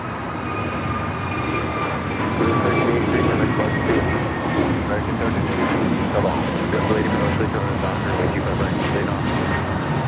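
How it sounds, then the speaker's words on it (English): An American Airlines Airbus A321neo takes off at LAX, a loud, sustained jet roar with thin engine whines layered through it, steady across the whole stretch. "This is American Airlines 1388 taking off to Charlotte on the A321 Neo"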